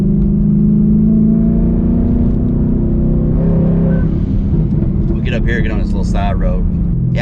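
A 2020 Ford Mustang GT fitted with a Hellhorse twin turbo kit accelerates along a side road, its engine pulling hard with a rising turbo whir, while people talk over it from inside the car.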